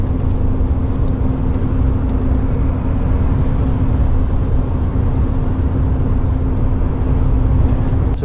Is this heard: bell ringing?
no